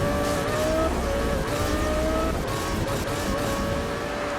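A yellow and blue Audi races in Need for Speed Rivals, its engine a steady loud drone with shifting pitch and occasional tire noise as it speeds along.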